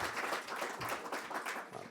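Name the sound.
audience applause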